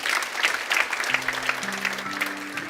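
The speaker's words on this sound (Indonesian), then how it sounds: "Tepuk tangan saudara." Congregation applause in a church sermon setting, a steady wash of many hands clapping continuously and fairly close, with a low sustained tone running underneath.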